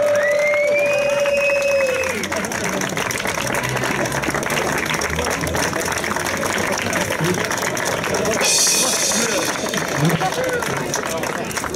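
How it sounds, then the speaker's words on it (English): Crowd at a live concert in Rotterdam applauding and cheering continuously, a dense wash of clapping with whistles and tonal voices over it, fairly close and sustained throughout. "Lots of applause, go with it."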